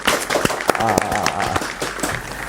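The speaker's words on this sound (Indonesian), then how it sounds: "Tepuk tangan dong teman-teman." A small group claps to welcome a guest at a coffee business talk, with scattered uneven claps close to the microphone, mixed with voices and laughter.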